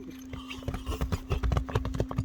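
Hooves of a racehorse, shown as horse number 3, clip-clop in a quick, steady rhythm of close, distinct strikes over a continuous low hum.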